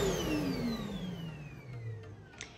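A Vaniman Pure Breeze FX HEPA fume extractor powers down, its motor whine gliding steadily lower in pitch and fading as the fan winds to a stop, ending with a faint click.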